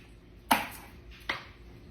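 Knife slicing the ends off large garlic cloves on a cutting board, two sharp, close chops about a second apart in an otherwise quiet kitchen.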